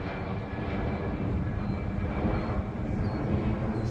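A small plane's engine runs at full throttle in flight, a steady, fairly faint droning hum that holds throughout without talk.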